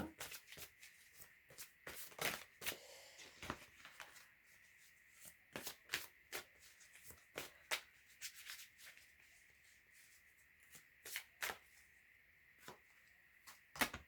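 Tarot cards being shuffled during a reading: repeated crisp riffling bursts in irregular clusters, close and fairly quiet, with no talking.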